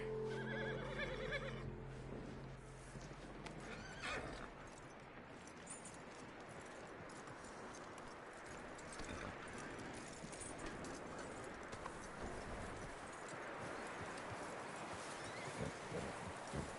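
Horse hooves clip-clop and a horse whinnies in the Red Dead Redemption 2 video game, faint and low in level, with no talking over them.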